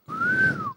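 A comedian on a stage imitates a night watchman's whistle, producing one sustained, slightly rising-then-falling whistled tone that lasts close to a second, loud and alone without speech.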